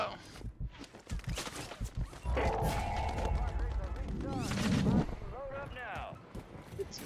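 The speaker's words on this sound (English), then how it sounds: "Oh, we're getting shot from all over the place." Video game gunfire, shots and blasts crackling in bursts from several directions during a firefight, mixed with rumbling explosions and voices talking over it.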